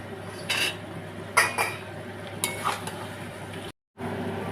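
Curry in a pot stirred after adding sugar, with a few distinct metal scrapes and clinks of a spoon against the pot over a low steady background hum, close by, briefly cutting out near the end.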